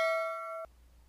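A single bright notification bell ding with a clean ringing tone, sustained for about half a second before cutting off abruptly, heard alone against near silence.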